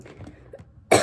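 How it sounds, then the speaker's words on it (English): A single sharp cough from a woman with a lingering cough, loud and close, bursting out after a quiet moment of faint breathing. "I still have a bit of a cough."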